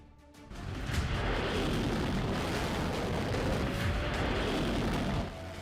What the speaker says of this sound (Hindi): मिसाइलें फायर, निशाना साधा गया और धमाका हो गया।